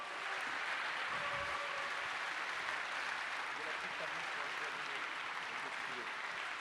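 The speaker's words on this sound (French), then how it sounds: "Nicolas Sarkozy, que je vous demande d'applaudir et de remercier sincèrement." An audience at a political plenary session applauds Nicolas Sarkozy, a dense, even wash of clapping that holds for several seconds, sounding distant and faint.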